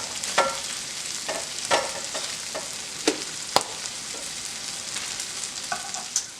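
Sausage frying in a pan, a soft continuous sizzle broken by irregular sharp crackles and pops, close and fairly quiet, with no voices.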